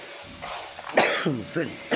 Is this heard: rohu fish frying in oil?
no